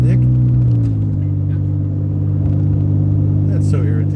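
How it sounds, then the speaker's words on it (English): Pickup truck with an aftermarket exhaust idling in sport mode, a deep steady engine rumble with low droning tones running continuously close to the microphone, people talking faintly over it. "You hear this truck when it's in sport mode? It goes wah, wah, wah."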